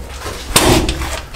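A locked iron door being handled, giving a single sharp metallic clunk or rattle partway through, fairly close, against a steady low background.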